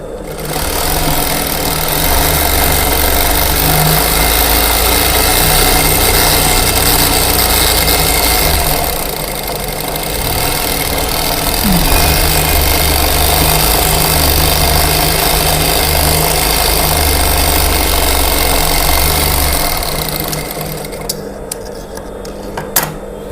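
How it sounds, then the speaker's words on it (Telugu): A tailor's sewing machine stitches a lining seam, running loud and steadily as an even mechanical whirr for most of the stretch, with a brief slowdown midway and a stop near the end followed by a few clicks. "కొంచెం గ్యాప్ ఇచ్చేసి కొంచెం ఇట్లా అని ఇంకొక కుట్టు వేసుకుందాం"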